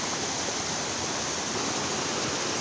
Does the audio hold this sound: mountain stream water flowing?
yes